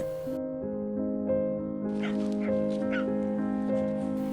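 A puppy in distress whimpers by a roadside in Romania, between Constanta and Sighisoara, with thin, high, repeated whines that rise and fall over a steady tonal background.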